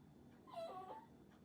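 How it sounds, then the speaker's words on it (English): A dog gives a brief, faint, high-pitched whine, rising and wavering for under a second against quiet room noise. "There's my dog whining."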